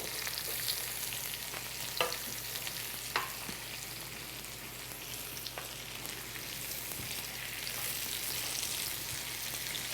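A steak sizzles steadily in a pan while being basted with butter, garlic and thyme, a soft continuous frying hiss broken by a few sharper spoon or pan clicks.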